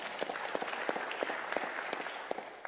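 A live comedy audience breaks into applause for an economist guest, a brisk run of sharp, separate claps that stays fairly close and even throughout, with little else heard.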